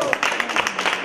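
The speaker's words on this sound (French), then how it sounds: "On applaudit les 2 équipes." A crowd at a high school robot challenge applauds the two competing teams with quick, uneven claps. A voice talks over the applause.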